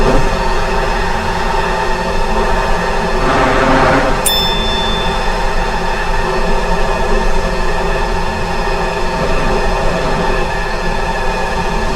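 Electric train in JR East Train Simulator on the Tokaido Line running at full throttle, a steady loud rumbling motor drone with rail noise throughout, a brief rising whine partway through and a high tone entering after.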